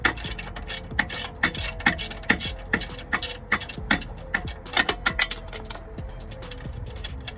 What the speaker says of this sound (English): to remove a crown nut, you're gonna need to use a 17mm